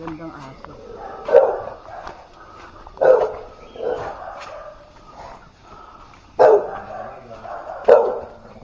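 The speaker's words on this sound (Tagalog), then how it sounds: "Dito yung mga magagandang aso." Several dogs barking outdoors on Mt. Banahaw: four loud single barks spaced a second or two apart, close by, with people talking quietly in between.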